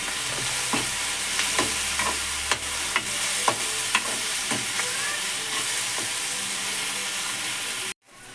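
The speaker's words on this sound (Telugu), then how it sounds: "పసుపు వేసుకొని మంచిగా పసుపు కలిసే వరకు కలుపుకోవాలి." Soft cooked tomatoes with turmeric being stirred in a frying pan, a steady oil sizzle under repeated scraping strokes of a spoon across the pan, continuing evenly for several seconds before cutting off.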